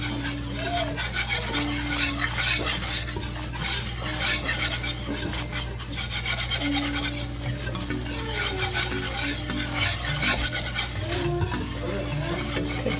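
Flour cooking in a hot pan for a pie filling, stirred continuously with a dense, rasping scrape over a constant sizzle and hum. The sound stays loud and close throughout with no voices.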